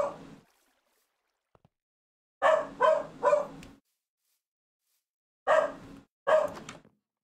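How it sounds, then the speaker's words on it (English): A dog barks in short bursts at neighbors, a cluster of three barks followed after a pause by two more, fairly close and loud with near silence between. "Oh, I hear Moby barking at the neighbors."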